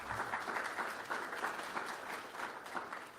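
Audience applause for Michael Bidwill, owner of the NFL's Arizona Cardinals, at a Phoenix forum, even continuous clapping from a crowd, moderately loud throughout.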